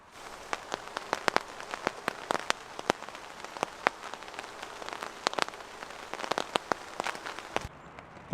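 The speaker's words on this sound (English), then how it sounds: "There's the rain." Rain falls on a hammock camp in a quiet suburb, steady close drops pattering irregularly on the surface overhead, with no voices.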